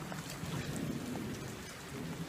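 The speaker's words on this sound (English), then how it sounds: "it's just rained so hard and it still is" Heavy rain pouring down steadily on a mountain path, a dense, constant hiss of drops on surfaces with a low rumble underneath, loud and close, with no voices.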